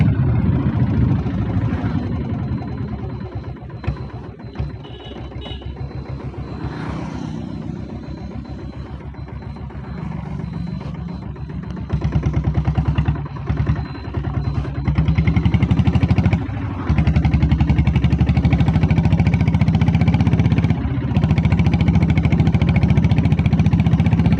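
A 7.5 HP diesel Bullet motorcycle engine runs steadily with a low, rumbling thump, holding a constant note for most of the clip and growing louder near the end as revs rise, heard close without talk.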